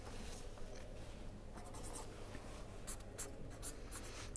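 Chalk or a marker writes out an equation during a multivariate analysis lecture, making faint scratchy strokes and a few taps that are quiet against the room hum.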